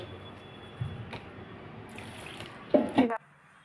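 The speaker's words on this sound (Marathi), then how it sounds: "त्यामध्ये आता लागेल तसे पाणी घालू" Water poured from a tap onto washed rice in a pot for cooking, a soft steady running stream with a brief louder splash near the end before it stops; a voice speaks briefly over it.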